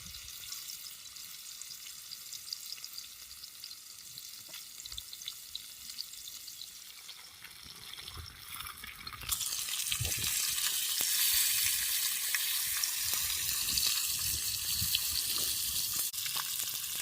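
Murrel fish pieces drop into hot oil on a flat pan, the quiet background giving way midway to a loud, steady sizzle and crackle of frying up close.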